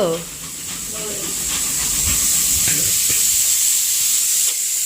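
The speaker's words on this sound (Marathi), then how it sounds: "आता पूजा मोदक तळते" Modak dumplings frying in a pan give a steady, loud sizzling hiss that builds slightly and holds throughout, with faint clinks in the background.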